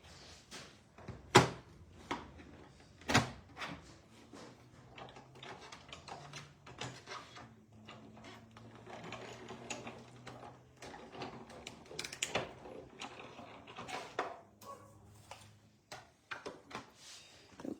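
A hand-cranked die-cutting machine feeding a paper die on a magic mat, with sharp clicks and knocks up front, then a steady low grinding rumble of cranking, with intermittent clunks and shuffling, fairly quiet and close.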